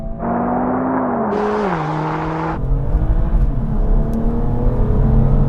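An Audi RS3 launching in a drag race alongside a Golf and a BMW, engines roaring loud and close with rising revs and abrupt gear shifts, then a broader rumble as the cars pull away.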